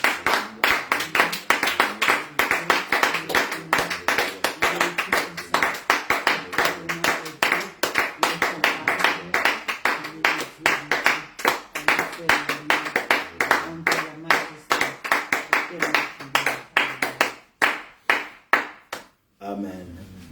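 Church congregation clapping in acclaim during a French-language worship service, steady rhythmic handclaps filling the room for most of the stretch before thinning out and stopping near the end.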